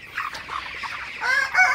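Thirty-day-old broiler chickens cluck and call in a morning poultry shed, a close, steady run of overlapping bird sounds that grows busier and louder toward the end.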